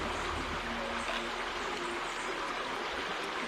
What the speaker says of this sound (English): I'm just gonna use some salt to wash them off